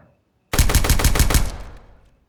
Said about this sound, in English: I do have the pistol, the SFX Rival S extended.